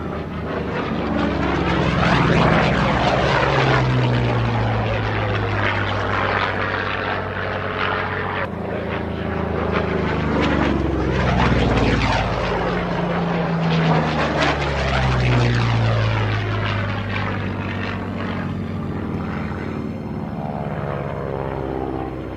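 Propeller engine of a WWII Corsair fighter aircraft droning steadily and loudly throughout, with shifting pitch sweeps as it passes and circles.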